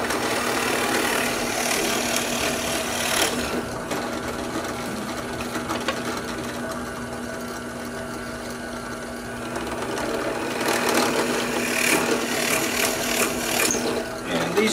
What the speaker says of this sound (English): So before I rip my my booms, I'm going to drill a 5/16 hole.